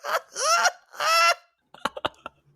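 Three loud, close goose honks come in quick succession, each one drawn out and nasal, then after a pause a few short clattering clicks.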